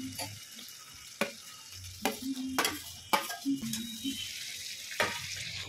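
Cabbage, eggplant and tomato mixture hitting hot oil in a pan, giving a steady close sizzle broken by several sharp stirring scrapes and clatters of a spoon against the pot.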